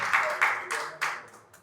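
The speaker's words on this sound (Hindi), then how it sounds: "उनका भी जोरदार तालियों से सब स्वागत कीजिए" Audience at a Hindi seminar clapping to welcome a guest, a short burst of a few distinct, fairly close claps with a slight echo that tapers off.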